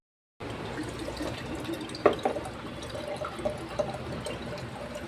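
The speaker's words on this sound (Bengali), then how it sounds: "অ্যাট লাস্ট আমরা সাকসেস, বাট জল বেশি বেরোলো না, এত বড় ডাবের এইটুকুনি জল" Water from a large cut green coconut trickles and drips in small, soft splashes and gurgles, close and quiet, with a few brief louder spatters.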